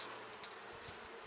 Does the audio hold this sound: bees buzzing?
yes